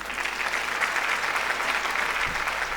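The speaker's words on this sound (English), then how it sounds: "Don't you think we need a big round of applause for that?" Sustained applause from a conference audience, a steady dense clatter of clapping hands filling the room for the whole stretch with no voices over it.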